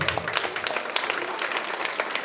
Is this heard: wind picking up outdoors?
no